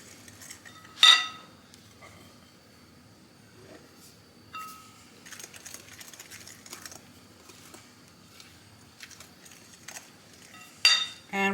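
A spoon scrapes and clinks against a bowl while Dundee cake batter is mixed, sparse quiet taps and scrapes with a couple of sharper knocks, heard alone without talk.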